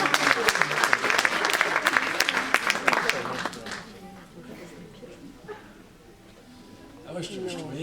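A comedy show audience claps loudly and densely for about four seconds, then the applause fades into murmurs, with a performer's voice returning near the end.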